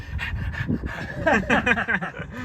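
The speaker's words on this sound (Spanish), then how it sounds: "va a escuchar el perro en el vídeo" A dog pants in quick, rhythmic breaths close by, the huffing growing stronger toward the end with a few soft whimpering tones.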